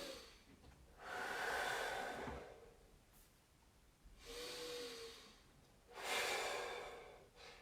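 Deep breaths pushed out through the mouth during a guided meditation, three long airy whooshes each lasting about a second and a half, close and fairly loud with quiet pauses between.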